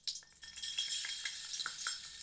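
Prawns fry in a pan with cinnamon pieces, giving a steady, moderately quiet hiss and sizzle with a few light stirring scrapes and utensil taps, close by and with no talking.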